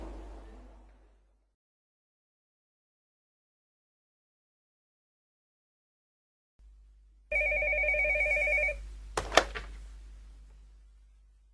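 A telephone rings in a shop, a single loud, near burst of electronic ringing tones followed by a sharp click as the receiver is lifted, after a long stretch of near silence.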